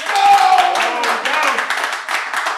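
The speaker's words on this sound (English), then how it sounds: "Everybody start clapping right now." An audience claps in the building, a steady patter of hands close by that runs the whole time while people talk over it.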